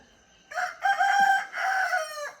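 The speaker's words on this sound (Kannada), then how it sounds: "ನಮ್ಮ ಕೋಳಿ ಗುಡ್ ಮಾರ್ನಿಂಗ್ ಹೇಳ್ತಾ ಇದೆ" A rooster crows once in the early morning, a clear, fairly close cock-a-doodle-doo standing alone against a quiet background.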